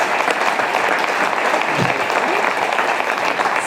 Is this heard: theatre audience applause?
yes